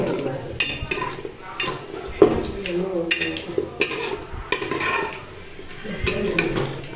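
A spoon stirs pongal with ghee in a pot, sizzling under repeated scraping strokes and metallic clinks against the vessel in an uneven rhythm, loud and close.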